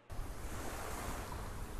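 Beach waves and surf washing steadily on a seashore in the horror game Garten of Banban 3, a broad continuous rush that starts abruptly and holds at an even level with no talk.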